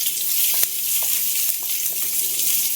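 Chopped onion sautéed with green chili and ginger in a pan for aval upma gives a loud, dense, continuous sizzle close up. A few light taps of the stirring utensil sound under it.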